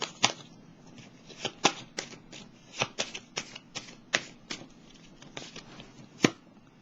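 Tarot cards are shuffled, handled and laid down on a table, giving a run of crisp, close slaps and riffles at an uneven rhythm with a louder snap near the end, with no voice over them.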